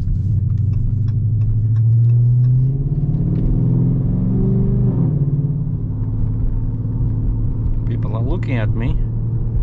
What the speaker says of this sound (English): which means they can hear my exhaust